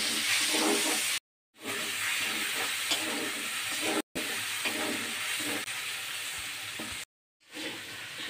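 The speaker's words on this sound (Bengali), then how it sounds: "আমি এখন সর্ষে বাটা" Mustard paste with bay leaves sizzles and spits in hot oil in a pan, a steady close hiss broken by brief pauses, with faint stirring scrapes throughout.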